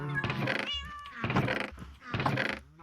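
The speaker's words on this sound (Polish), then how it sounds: "Kotów mam dużo." Cats meowing inside a video game, three drawn-out, tonal cries in a row, each fairly loud and close, separated by short gaps.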